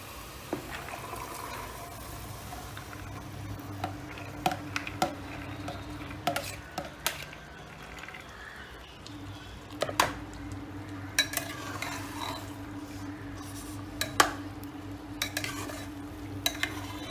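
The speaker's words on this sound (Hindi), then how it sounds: "और अभी हम राजमा इसमें डाल रहे हैं" Kidney beans are stir-fried in a tomato masala for a vegetarian Indian dish. A low, steady sizzle runs throughout, broken by irregular scrapes and clinks of a spoon against the pan. No one speaks.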